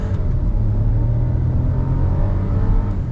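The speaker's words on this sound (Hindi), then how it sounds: "6000 तक रेड लाइन कर रहा है, RPM तक। फुल एक्सेलरेशन पैडल प्रेस्ड है" A Kia Syros 1.0L turbo petrol automatic in sports mode accelerates at full throttle toward its redline, its engine a loud, continuous, rising drone heard close from inside the cabin.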